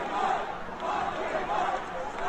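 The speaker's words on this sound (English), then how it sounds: "they're yelling, lock him up" A protest crowd booing and chanting "lock him up," a dense, steady roar of many voices heard at a distance throughout.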